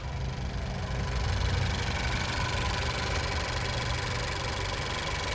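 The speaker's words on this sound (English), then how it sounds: "That engine is running smooth as could be." A 2019 Honda Civic EX engine idles steadily, a low continuous rumble with faint mechanical vibration, close by and even throughout.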